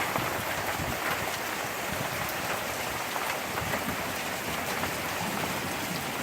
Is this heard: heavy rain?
yes